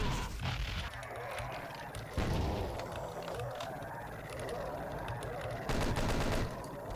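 Chain gun fire in Doom 2, a rapid, continuous rattling stream of shots layered over dense game noise, with a few louder surges.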